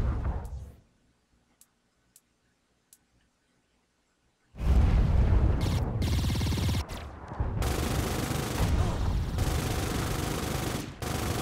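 Gunfire in the Saints Row IV video game: a few faint isolated clicks, then after a quiet gap a loud, sustained burst of continuous automatic fire running to the end, briefly dropping off once before resuming.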